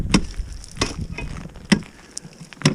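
A few hollow thuds from footsteps on hard sand over a beaver bank den at a shoreline, spaced irregularly, close by, with faint breathing between impacts.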